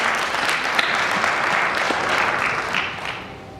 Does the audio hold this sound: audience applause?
yes